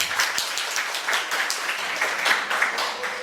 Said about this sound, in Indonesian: Tepuk tangan untuk BLN.